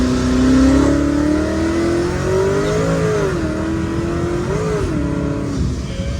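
A car engine revs hard in third gear while the transmission slips, its pitch climbing and wavering up and down without the car pulling properly, loud and close.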